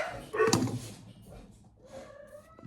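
Dogs giving a short burst of barking and yipping, one loud bark early on followed by fainter whimpers and small noises.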